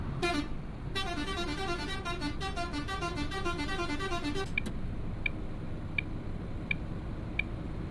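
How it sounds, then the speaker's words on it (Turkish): Horn of a Neoplan Cityliner coach sounding a long run of rapid melodic musical toots on a road, followed by a few short, evenly spaced higher beeps from a smaller horn, with steady engine and road noise underneath. "Türkiye'ye de girdik ya şöyle korna çala çala girelim dedim."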